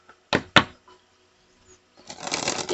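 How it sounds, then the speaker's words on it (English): Tarot cards being shuffled by hand: two sharp riffle snaps near the start, a short lull, then a longer run of steady rustling and flicking, close and fairly quiet. "They want me to shuffle one more time."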